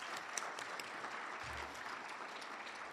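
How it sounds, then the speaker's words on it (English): A steady round of applause from an audience at a business community event, continuous hand clapping at moderate distance with no talk over it. "Let's give them a round of applause."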